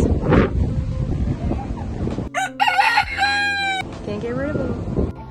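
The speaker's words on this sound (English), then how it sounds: "Some chickens." Wind buffets the mic outdoors on Oahu, then a rooster crows loudly and close by, followed by a few clucks as a person speaks.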